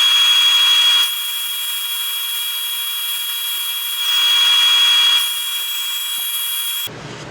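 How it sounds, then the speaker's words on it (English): A power sander works a cherry and epoxy bowl with a loud, steady high-pitched whine and hiss that swells, dips and swells again, then cuts off near the end. "Okay, everybody, it's time for some sanding."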